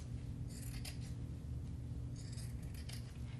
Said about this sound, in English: I have a little excess batting, so I'm going to cut that off